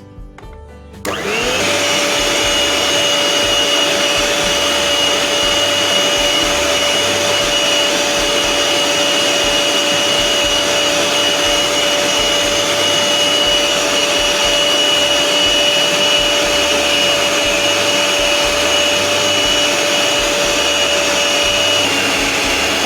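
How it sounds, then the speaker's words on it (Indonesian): An electric mixer whips tiramisu cake batter at high speed, a steady loud whirring drone with a constant whine that runs unbroken for about twenty seconds after a short start. "kita kocok lagi dengan kecepatan tinggi selama 6-7 menit sampai adonan putih kental."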